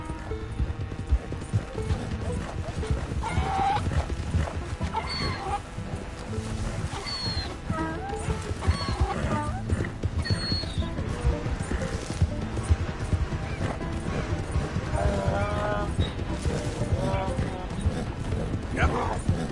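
Donkey in the Red Dead Redemption 2 video game, with steady hoof clip-clops and brief braying or whinny calls over a busy layer of game music and ambience, voices talking throughout.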